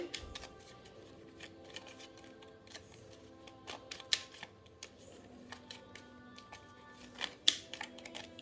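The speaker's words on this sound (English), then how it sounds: "Give it one more shuffle." A deck of tarot cards is shuffled and riffled with quick crisp flicks and snaps, quiet and close, with a couple of sharper clicks near the end.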